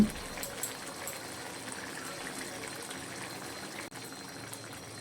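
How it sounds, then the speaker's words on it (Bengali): A Bengali fish curry of khoira fish with hog plums bubbles in a pot, a faint, steady simmering hiss with soft gurgles and a small knock near the start, no talking. "খুব ভালো মতো মাছের ঝোলটা ফুটে উঠেছে"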